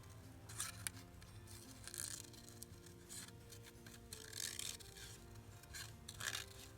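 Scissors fussy-cut paper around a handmade junk-journal embellishment, with repeated quick snips and rustling paper crackles at a steady, close working pace and no talking.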